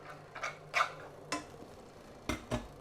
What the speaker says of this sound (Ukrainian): І перемішую, щоб не пригоріло.